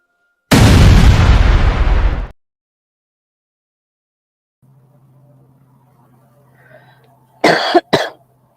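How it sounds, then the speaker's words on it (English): One loud, harsh cough bursts out close by, then quiet background hum with a couple of brief sounds near the end. "I didn't mean to cough in your ear"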